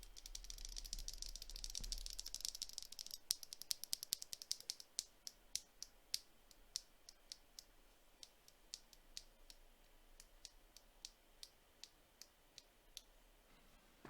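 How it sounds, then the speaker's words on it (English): Typing on Moondrop mechanical keyboard switches gives a close, quiet stream of clacky keystrokes. A fast rattling burst comes first, then the presses slow into separate, evenly spaced clicks. "they produce a very deepish sounding downstroke, and a poppy, clacky upstroke"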